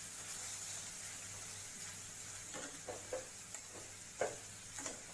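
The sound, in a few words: stirring carrot halwa in a pan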